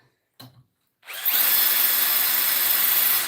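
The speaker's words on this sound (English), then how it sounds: "We're going to drill these knives out now." A power drill bores into hardened knife steel with a loud, steady high-pitched whine, starting after a brief short burst and continuing without pause.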